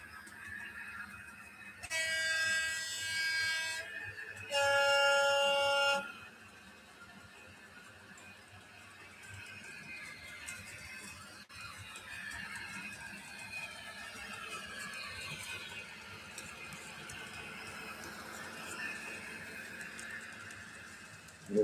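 A Hornby Class 56 model locomotive fitted with a sound decoder gives two short bursts of a harmonic two-tone horn early on, then the steady rumble and whine of its diesel engine idling and running for the rest of the clip.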